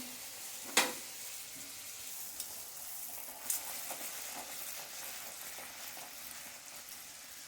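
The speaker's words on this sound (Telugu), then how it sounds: "ఇప్పుడు పూరి ఆయిల్ కాయింది, పూరి వేయించుకుందాం" Puris deep-frying in hot oil for a home aloo curry meal give a low, steady background sizzle with a few sharp crackles and pops, with no talking.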